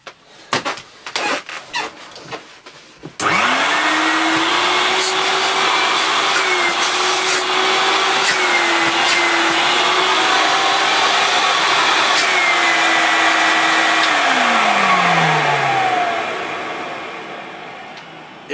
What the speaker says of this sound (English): Its little 800 watt motor is incredibly powerful.